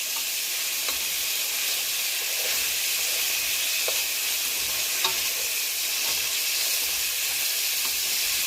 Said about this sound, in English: And now I'm going to go ahead and add my minced garlic, because we don't want the garlic to burn. I'm going to saute that all together.